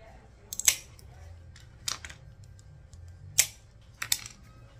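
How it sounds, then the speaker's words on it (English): Round wheel cutters snap 20mm mirror glass circles in half for a mosaic, giving four sharp, close clicks spread out at uneven intervals. "I'm going to use some mirror circles, which I'm going to cut in half."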